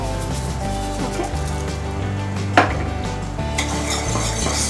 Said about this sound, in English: Stir continuously until it will dissolve.